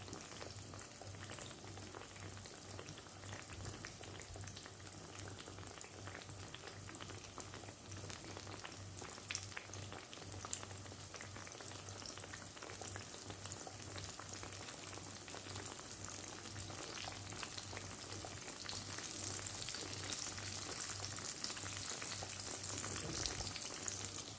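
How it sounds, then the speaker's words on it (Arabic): Aubergine slices fry in hot oil in a pan with a steady, faint crackling sizzle and soft popping. The sound holds evenly throughout with no voices. "ونخليهم يتقلاو"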